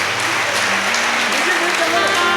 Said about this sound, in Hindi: अगर आपकी अनुमति हो तो ताली बजा करके सहमति आप दें।